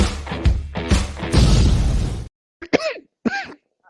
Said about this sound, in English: And then I coughed.